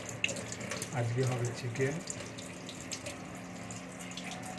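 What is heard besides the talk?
chicken being washed under running tap water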